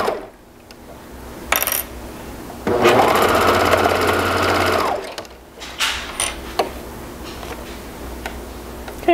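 A sewing machine stitches cotton swimwear elastic onto straps in a steady burst of rapid mechanical whirring lasting about two seconds, framed by scattered clicks, taps and handling noises nearby.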